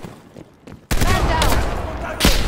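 Heavy gunfire erupts suddenly in Call of Duty Black Ops Cold War, a dense, sustained barrage of close, loud shots after a quiet opening, with a further burst near the end.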